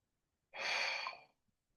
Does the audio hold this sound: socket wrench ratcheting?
no